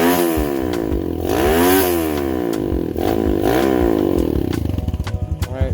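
A Lifan KP Mini 150 motorcycle runs with a street muffler, its engine revving in rising and falling sweeps up close, then settling into a choppy, pulsing idle.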